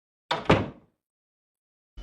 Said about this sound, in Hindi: तभी पास ही के कमरे का दरवाजा खोलने का आवाज आया